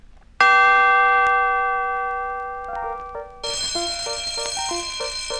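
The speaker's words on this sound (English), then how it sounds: "The school bell rang" A school bell rings out in a single bright, sustained chime that slowly decays, then a second series of shorter stepped bell tones follows, clear and alone without talk.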